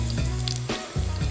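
Onions and ginger sizzle loudly in a hot pan, a close, steady hiss of frying with a brief dip as they are stirred, and no talking.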